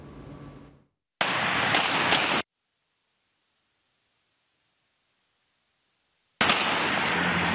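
CCTV footage of a shooting carries harsh bursts of loud, distorted noise with a long silent gap between them, the shots clipped and smeared into broadband blasts.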